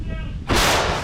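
A single loud, sudden artillery gun blast cuts in after a moment of quieter background noise, booming close by and then lingering.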